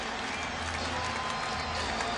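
A basketball arena crowd reacts to Allen Iverson during a 2003 NBA playoff game against the Hornets, a steady, dense roar of voices and applause that fills the space, with a commentator's voice faintly mixed in.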